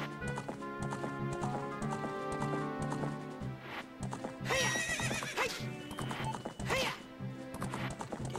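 A horse whinnies loudly twice over rhythmic clip-clopping hooves and a busy game music backdrop in The Legend of Zelda: Ocarina of Time.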